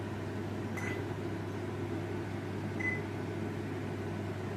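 An oven running for a plum cake gives a steady low electric hum with fan noise, and two short, soft beeps sound while the timer is set, alone with no talking.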